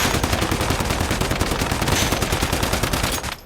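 Rapid, loud automatic gunfire from a shrapnel-build weapon in the video game Once Human fires continuously in a dense, evenly spaced stream. It stops just before the end.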